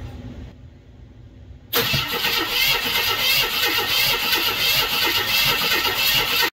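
A 1976 AMC Gremlin engine, stored for 36 years and lacking spark, cranks over after a quiet start: a sudden loud, continuous mechanical churning that runs steadily to the end, close to the car.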